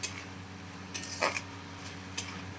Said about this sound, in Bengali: এবার কুঁদরিটা দিয়ে একদম মাখা মাখা করে কষাবো।